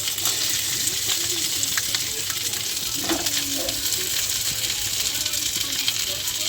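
Katla fish pieces sizzle steadily in hot oil in a wok, a dense continuous frying hiss throughout with a few faint clinks partway.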